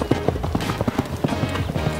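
Horse hooves clip-clopping on the ground during a riding lesson on a cross-country training course, a steady rhythmic patter of close, fairly loud footfalls.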